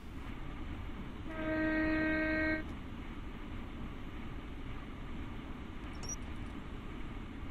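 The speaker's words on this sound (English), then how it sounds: "I can honk the horn" A train horn in the Train Sim World video game sounds one steady blast of about a second over the low rumble of the locomotive, then the engine hum carries on alone.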